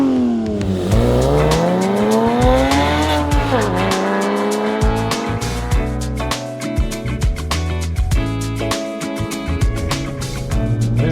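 A Porsche Boxster S engine pulls away and revs loudly through rising and falling gear changes, a close, continuous throaty drone with rattling and clicking over it.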